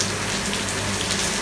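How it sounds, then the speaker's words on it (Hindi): Heavy rain pours down in Ajman, a dense, even hiss, steady and close, with no voices. "काफ़ी तेज़ बारिश होती हुई यहाँ पे अजमान के अंदर"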